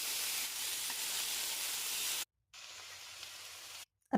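Fish sizzling steadily on a hot tawa, a continuous bright frying hiss that cuts out briefly and then resumes, with no one talking.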